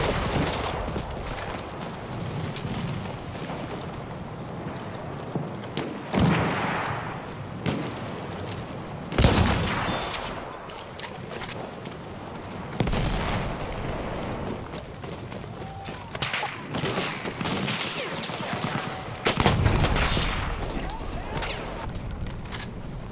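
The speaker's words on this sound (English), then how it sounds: "Look out! Machine gun!" Battlefield 1 combat with bursts of machine gun fire and a dense battlefield din of running, impacts and shots, loud and continuous, with several sharp louder bursts spread across the stretch.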